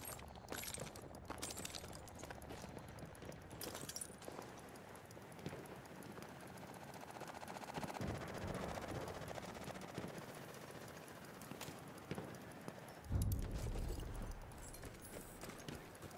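Rapid bursts of machine gun fire in the shooter game Battlefield, crackling among other battlefield noise, hoofbeat-like clatter and a heavy blast near the end, with no voices.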